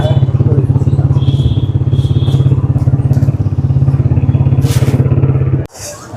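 A motorcycle engine runs loud and close in a steady, throbbing idle at a college pitha-festival fair in Faridpur, then cuts off abruptly just before the end.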